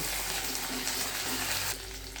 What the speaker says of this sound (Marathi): आता हे मी सगळं परतून घेते.